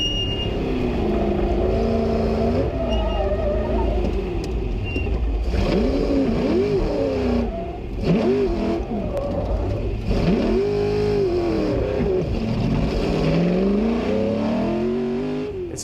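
A Ford GT race car engine revs loudly and close by, rising and falling in repeated throttle blips and sweeping pitch changes, with nobody speaking.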